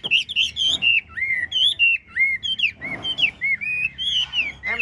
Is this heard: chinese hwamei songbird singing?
yes